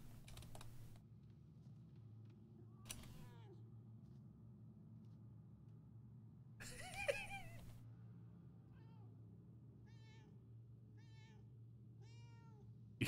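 A cat meows several times in the video game Murdered: Soul Suspect, quiet short calls over a low steady hum, with a few brief bursts of noise in between and no talking.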